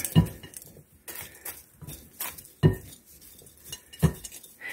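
Broccoli and bacon salad tossed in a big bowl with utensils, giving scattered scraping clinks and clatters in uneven bursts, fairly close and alone without voices.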